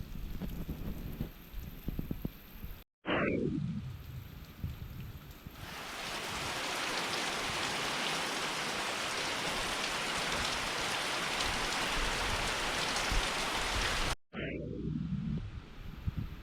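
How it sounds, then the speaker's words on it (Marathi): Steady rain falling behind a room in a Konkan village house, a dense even hiss that swells after a few seconds and holds, with faint rumbles and brief cuts at the start and end. "रूमच्या मागच्या बाजूला आहे, मस्त पाऊस पडतोय."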